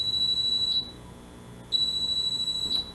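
A TornadoAlert device sounds a high piercing electronic tone in two long beeps with a short gap between them, clear and close in a quiet room.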